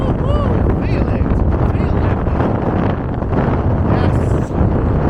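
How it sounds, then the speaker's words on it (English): Strong wind roars across open water on the Menai Strait, buffeting the microphone in a loud, continuous rush with gusts rising and falling throughout. "Oh my god, the wind has picked up now."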